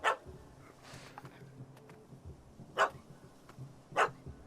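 Dog barking in The Witcher 3 game audio: three sharp barks, the first at the start and two more spaced a second apart near the end, loud over a quiet ambient background.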